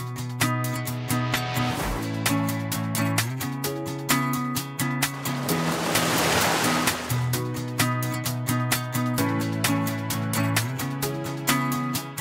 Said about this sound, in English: These waves are huge compared to them.